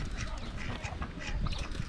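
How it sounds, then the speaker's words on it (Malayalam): Ducks quacking close by on a heritage farm in Karangahake, New Zealand, a busy overlapping chatter of calls running steadily through the whole short stretch. "താറാവ്"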